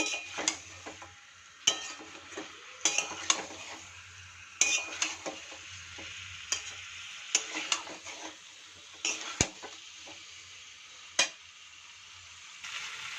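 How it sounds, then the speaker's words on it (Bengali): Chicken and potatoes being sautéed and stirred in a pan for a chicken gravy: a low sizzle broken by sharp, irregular clacks and scrapes of the spoon against the pan, heard close with quiet stretches between strokes. "চিকেন আর আলু দিয়ে একটু সামান্য কষিয়ে নেব"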